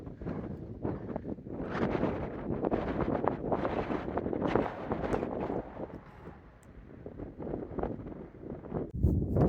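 Steady wind buffets the microphone throughout, a rough, rumbling roar with gusts that swell and ease, no voices present, on a mountain trail in the White Mountains on the Appalachian Trail.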